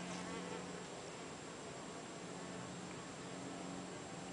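Mason bees buzz steadily outdoors in May, a continuous close, even drone with a bee flying right past, no talking.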